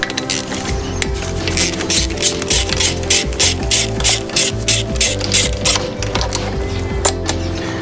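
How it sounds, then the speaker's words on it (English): Rapid ratchet-wrench clicking in repeated rhythmic bursts while 8mm bolts are loosened on a Honda Grom motorcycle during servicing; close and steady, with metallic rattles and no talking. "Just remove this little nut first to make it easier."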